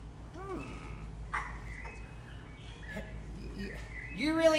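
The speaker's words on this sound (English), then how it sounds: "Listen to the birds chirping and the bees buzzing all around" Several short bird calls chirp and caw against a low background hum, with brief rising whistles near the end.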